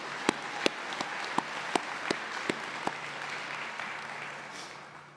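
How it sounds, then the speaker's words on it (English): Graduates at a Shelton State summer commencement ceremony applauding, a broad wash of clapping from a large crowd with a few sharp nearby claps standing out, tapering off toward the end. "Now I want you to give yourselves a round of applause."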